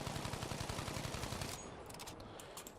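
Automatic gunfire in the Battlefield 5 video game, with a faint, dense, rapid stream of shots that runs for about a second and a half, then gives way to scattered softer clatter.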